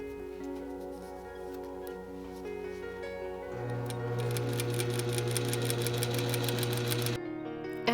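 A sewing machine stitches a tiny narrow rolled hem, its needle ticking in a fast even rhythm that grows louder and steadier midway before stopping abruptly.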